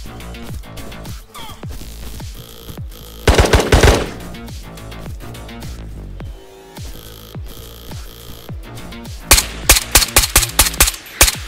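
The player fires a gun in the Island of Tabor video game: a steady run of loud, evenly spaced shots with two heavier, faster automatic bursts, close and clear, with no talking over it.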